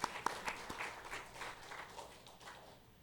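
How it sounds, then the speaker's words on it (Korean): A church congregation at a Sunday worship service breaks into applause: scattered, fairly soft claps that fade out over a few seconds. "우리 모두를 위해서 박수 한번 합시다."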